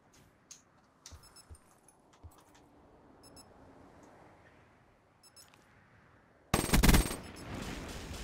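Gunfire during a competitive 2v2 video game round: sparse faint clicks and small shots give way to a sudden loud burst of rapid fire near the end, followed by a sustained noisy tail.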